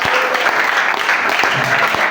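Church congregation at a Father's Sunday service applauds, a continuous, fairly loud patter of many hands clapping together.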